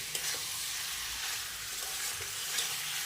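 Cauliflower and potato frying in a pan for an egg curry, a steady hiss and sizzle that holds evenly throughout, close and fairly quiet, with occasional soft stirring sounds and no talk.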